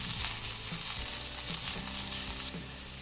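Onions frying in a pan with fennel seeds for a spicy chicken ada filling, an even crackling sizzle close up with repeated stirring thuds and scrapes of a spatula throughout.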